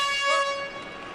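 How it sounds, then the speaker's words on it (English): A loud air horn blares at a UFC event, a steady harmonic-rich tone that swells and then sags slightly over about a second, with a flat, sputtering quality toward the end. "The air horn just farted."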